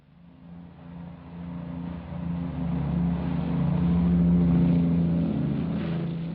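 A propeller aircraft takes off from a runway at Heathrow, London, its engine drone rising steadily in loudness over several seconds as it builds power, a sustained low rumble with no voices.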